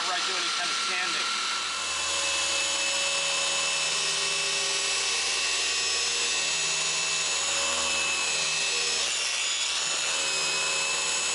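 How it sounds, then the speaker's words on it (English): A power sander wet-sands the painted hood of a Shelby GT350 at slow speed, whirring steadily with a constant motor hum and a grinding, rubbing texture, close and fairly loud, with no pauses. "I like to keep a slow speed just to work it in with a slow travel speed whenever I do any kind of sanding"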